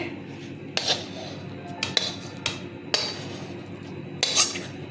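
Metal utensil scraping and clinking against a kadai (wok) as a thick, dough-like vegetarian mankochu (giant taro) mixture is lifted out, in a few separate short bright strokes over a low background hum.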